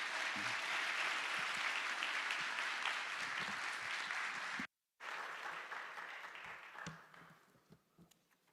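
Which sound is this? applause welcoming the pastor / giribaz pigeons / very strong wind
applause welcoming the pastor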